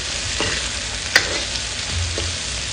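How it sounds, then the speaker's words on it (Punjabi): Chopped onions sizzling with cumin in a hot pan, a steady loud hiss throughout with a couple of faint clicks of a utensil, no voices. "ਫਿਰ ਇਸ ਵਿੱਚ ਕੱਟੇ ਹੋਏ ਪਿਆਜ਼ ਪਾ ਦਿਓ ਇਹਨਾਂ ਨੂੰ ਵੀ ਪੁੰਨ ਲਵੋ"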